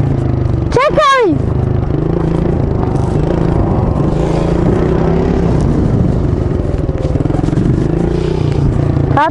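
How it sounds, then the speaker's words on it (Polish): A Beta 300 motorcycle engine runs steadily and loudly nearby while the bike is ridden, with a rough continuous drone and a brief high chirp early on. "Tata jedzie motorem."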